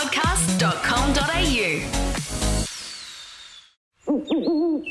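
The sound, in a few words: owl hooting in a radio advertisement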